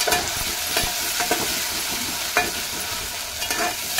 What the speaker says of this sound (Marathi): जोपर्यंत तेल सुटत नाही मसाल्यामध्ये तोपर्यंत तळत राहायचं